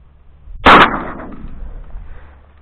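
A single loud shotgun blast during duck hunting cracks sharply, then booms away into a fading outdoor echo.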